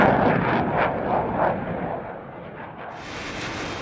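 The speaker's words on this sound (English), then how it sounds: "The missile hits one of the FA-18s, destroying the aircraft and killing its pilot." A missile strike blows apart an F/A-18 fighter jet, heard as a heavy, rolling explosive boom with deep rumbling bursts that fade into a lower, sustained roar.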